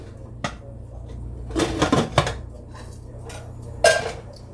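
A pan lid clatters onto a pan as a stovetop tilapia dish is covered, giving a few sharp metallic clinks and knocks in a quiet kitchen, with one brighter clank near the end.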